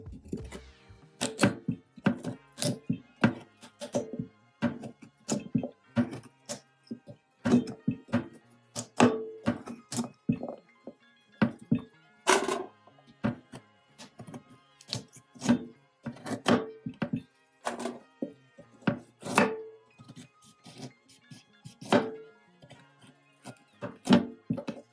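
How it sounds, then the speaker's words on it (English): A knife chops carrots on a board with sharp, close thuds that come in irregular bursts of quick strokes separated by short pauses, over about twenty-five seconds. "Cut the carrot for them to be boiled."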